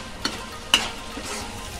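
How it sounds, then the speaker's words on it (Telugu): Onion paste fries in hot oil with a quiet sizzle, marked by two sharp spattering pops, one early and a louder one midway, and no voices. "మనం పేస్ట్ చేసి పెట్టుకున్న ఉల్లిపాయ మిశ్రమాన్ని వేసేయాలి ఆయిల్లోకి"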